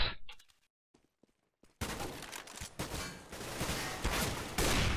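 Rapid bursts of gunfire from the video game Counter-Strike: Global Offensive, a few faint clicks at first and then sustained loud shooting and clatter filling the rest of the moment.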